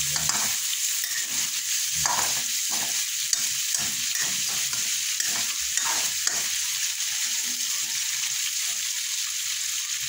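Ingredients sauté for pinakbet in a hot pan, browning until slightly toasted, giving a continuous bright sizzle with rhythmic stirring and scraping throughout, no voices present.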